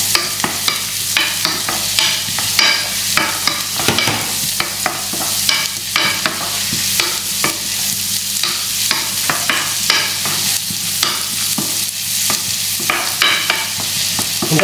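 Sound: onions frying in butter until brown

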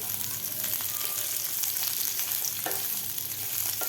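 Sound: thick-sliced onions frying in a pan

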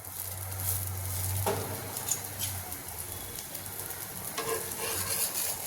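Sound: dabeli toasting in ghee on a pan, sizzling

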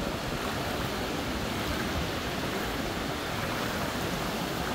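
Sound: sea waves at Mui Ne beach

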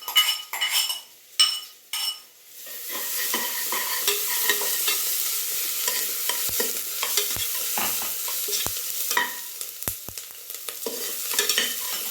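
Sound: ginger garlic frying and being stirred with onions in a pan

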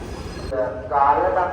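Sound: train at a station in Sri Lanka

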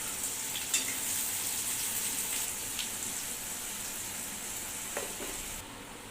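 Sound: onions and chillies frying in oil for tempering

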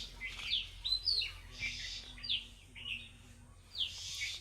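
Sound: small bird chirping in a litchi tree

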